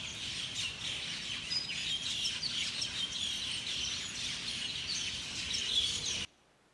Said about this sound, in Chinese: 我是耳朵先听到怎么那么多小鸟的声音